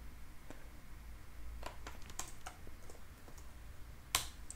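Sparse keystrokes on a computer keyboard while a script tag is typed, a few scattered light clicks over a low steady hum, with one sharper click near the end.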